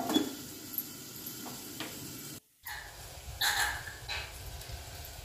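Peas and cabbage with salt cook quietly in a pan, with a soft sizzle and a few scraping stirs and utensil clinks; the sound cuts out briefly midway and then continues.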